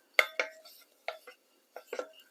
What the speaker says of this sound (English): so give that a good stir.